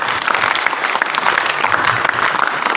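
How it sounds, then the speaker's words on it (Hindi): An audience applauds an honoree at a school ceremony in Ladnun honoring students and teachers, with steady, dense clapping from many hands that fills the whole stretch without a break. "तालियां बजाकर इनका स्वागत करें।"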